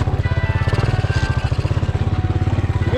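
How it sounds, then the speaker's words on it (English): Gator utility vehicle engine crawling in first gear on a frozen woods trail, a loud, close, rapid steady putter with an even pulsing rhythm throughout. "in first gear, the Gator crawls pretty good"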